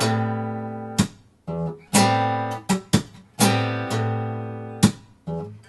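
Acoustic guitar pattern from a song played slowly, alternating ringing plucked chords with percussive thumb slaps on the strings, a sparse uneven rhythm with each hit left to decay.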